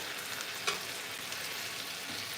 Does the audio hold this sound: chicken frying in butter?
yes